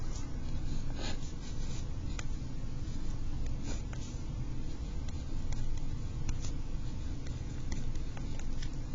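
Pen writing out a math solution on paper: continuous scratchy strokes with small taps, steady and close, over a low background hum with no talking.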